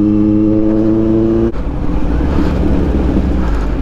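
Kawasaki Z900 motorcycle fitted with a Racefit exhaust, revving loudly up close on a city street: a steady harmonic engine drone that cuts off abruptly, then rougher broadband engine and exhaust noise continues.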